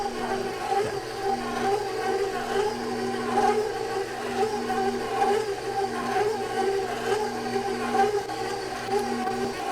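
A stand mixer kneads challah dough with a steady mechanical whir and hum, the motor drone constant and moderately loud with faint rhythmic thumps of the dough, no voices.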